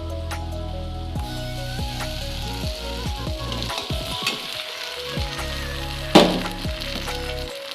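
Ginger and green chili paste sizzling in a pan with coconut and potato for a banana flower dish, steady frying crackle with stirring scrapes and a sharp clack of a utensil near the end.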